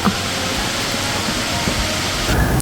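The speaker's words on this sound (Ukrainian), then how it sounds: "А це той самий водоспад, по якому ми гуляли" Waterfall in the Blue Mountains, a dense, steady roar of rushing water that holds evenly throughout, loud and broadband like heavy white noise, with no talk heard.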